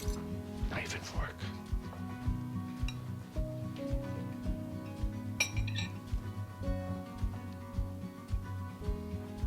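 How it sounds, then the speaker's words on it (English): Knife and fork clink and scrape against a plate while eating pork chops with sauce at a Sunday dinner, with repeated light metallic taps over a steady low hum and background voices throughout. "Knife and fork."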